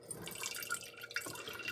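Liquid poured off homemade churned butter, a thin splashing trickle with scattered dripping, close and fairly quiet, running steadily throughout with no voices.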